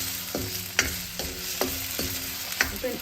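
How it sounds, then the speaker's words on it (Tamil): Potatoes fry in sesame oil in a pan with a soft, steady sizzle. Stirring adds sharp scraping strokes about every half second, close up and with no voices. "இப்போ உருளைக்கிழங்கு ஃப்ரை ஆகுது"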